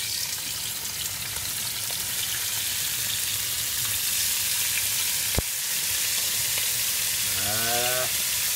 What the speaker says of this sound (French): Mon huile est chaude. Je vais faire sauter les rognons.